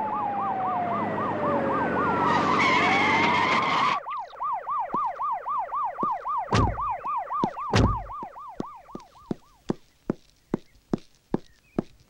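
A police jeep siren wails in a rapid, steady warble close by, then shifts to a slower yelp pattern with loud sharp thumps before ending in a series of spaced mechanical clicks.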